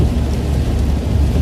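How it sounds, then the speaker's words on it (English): Heavy rain pounds steadily during a live storm chase amid damaging winds, a dense, loud, continuous roar with deep low rumble, likely from inside a moving vehicle, with no talk. "this heavy rain"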